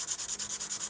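Quick, even back-and-forth strokes of 400 grit sandpaper rub against a surface, a close, rhythmic hissing scrub repeating about ten times a second with no voices.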